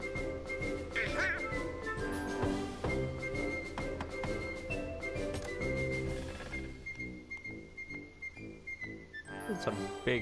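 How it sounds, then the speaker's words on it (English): Duck quacking in the video game Kingdom Hearts, a nasal quack rising out of busy, bouncy game music with ticking percussion that keeps going underneath. "Dano Dick. Quack"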